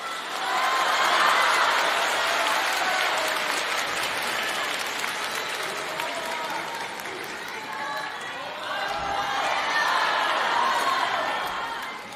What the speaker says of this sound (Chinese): 谢谢大伙儿的掌声鼓励